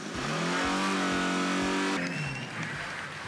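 Opel Astra 1.6i car engine revving, rising as a loud, steady harmonic whine that suddenly drops in pitch, then continues lower with a rough, rumbling texture.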